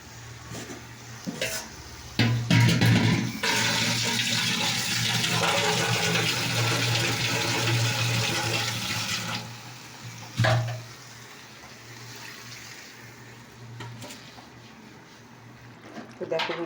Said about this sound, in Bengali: এবার আমি একটু এতে জল দেবো